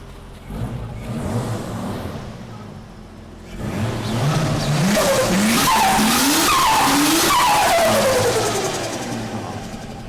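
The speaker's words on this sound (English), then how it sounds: "We're going to crack some gate for you and give you a little bit of a dose." Turbocharged Holden VL with a dump pipe and external wastegate, its engine revving hard with rising and falling pitch sweeps and a loud, close, sustained roar after a quieter idle start.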